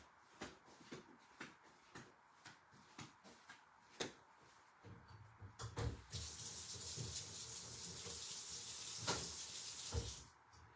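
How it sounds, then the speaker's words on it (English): A few seconds of scattered clicks and handling knocks give way to a tap running steadily into a sink, rinsing gesso off art tools, loud and close with occasional clatter. "And this gesso, I'm going to rinse real quickly."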